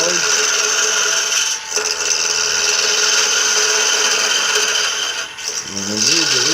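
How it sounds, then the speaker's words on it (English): Wood gouge cutting into a wooden spinning top, heard as close, loud, steady scraping and rasping strokes with brief pauses between them. "I just use the gouge."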